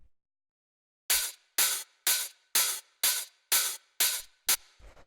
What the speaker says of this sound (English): we have the main hi-hat, which is 3 layers, and it sounds like this.